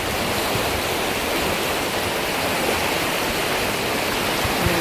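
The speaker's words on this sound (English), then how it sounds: "There's the Colorado River." Colorado River water rushing steadily through Glenwood Canyon, a dense, continuous roar like a stream or small waterfall, loud and close with no voices over it.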